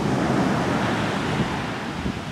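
Ocean swell breaking at Cambaie beach on Réunion, a continuous broad rush of surf mixed with wind buffeting the microphone, steady and fairly loud with no voices.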